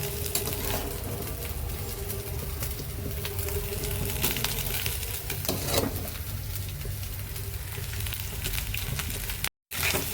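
Continuous sizzling and scraping of rice with cashews and raisins being stirred in a hot wok, steady and close, with no talking.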